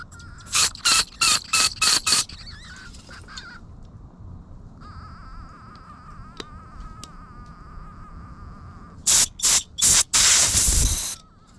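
Cleaner spray blasted into the jets and holes of a Husqvarna chainsaw carburetor, several short hissing bursts at the start, a faint steady hiss in the middle, then more bursts and a longer spray at the end, all close up.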